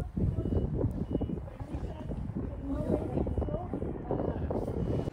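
Strong, cold wind on the Mount of Olives in Israel roars and buffets the microphone continuously, loud and gusty, with faint voices underneath.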